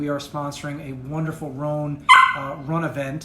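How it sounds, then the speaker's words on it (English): Winnie the dog barks sharply once, close and loud, in the middle of a person talking, with soft whimpering yips around the speech. "That is our dog"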